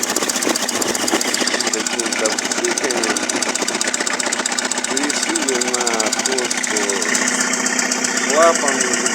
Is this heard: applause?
no